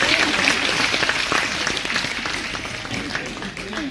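Loud sustained audience applause fills the hall, a dense wash of many hands clapping that holds steady and tapers slightly toward the end, with voices mixed faintly underneath.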